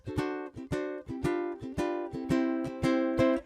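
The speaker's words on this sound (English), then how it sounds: "the very first thing that I learned was the 3-chord Hawaiian vamp," A ukulele strums a bright three-chord Hawaiian vamp in a steady, bouncy rhythm, each chord ringing clearly with no voices.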